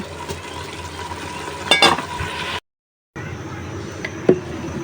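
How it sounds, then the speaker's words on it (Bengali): Bottle gourd curry cooking in a pressure cooker on a stove, giving a steady low sizzle with a few brief stirring scrapes, broken by a short silent gap midway. "তো লাউর তরকারিটা বসায় দিলাম"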